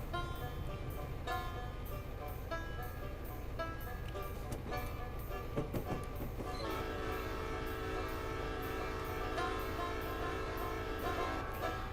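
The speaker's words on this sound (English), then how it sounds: "the horn itself is sounding pretty good" Horn of a locomotive in the Railworks train simulator blares in long sustained tones over steady rumbling rail noise, loud and continuous throughout with no talking.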